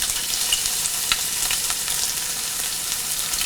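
Crushed small onions and garlic sizzle loudly and steadily in hot coconut oil in a skillet, a constant crackling hiss without pause.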